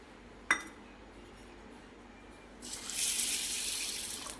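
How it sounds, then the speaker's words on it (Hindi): A sharp clink of a utensil on a bowl, then running water pours and swishes steadily as three kinds of lentils are rinsed in a bowl nearby. "ये तीनों दाल को एक बाउल में ट्रांसफ़र करके 3-4 पानी से अच्छे से वॉश कर लेंगे।"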